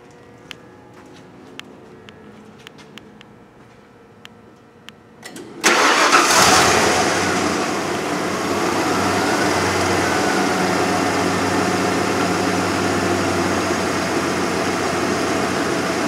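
A vehicle's engine cranks briefly and catches with a loud burst, then settles into a steady, continuous idle during an automotive A/C dynamic pressure test.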